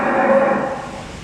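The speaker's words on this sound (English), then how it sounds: "That's the colostrum cows waiting to come in." Colostrum cows waiting to come in for afternoon milking on a farm in spring calving season give one sustained, loud, nearby moo lasting just over a second.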